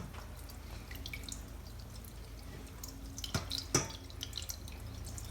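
Vinegar trickles and drips as it is carefully poured out of a glass jar holding an egg, a faint uneven splashing with a few louder drips near the end.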